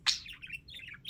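A pet budgie parakeet chatters at nap time, giving a bright opening chirp followed by a run of soft, rapid warbling tweets, close and alone.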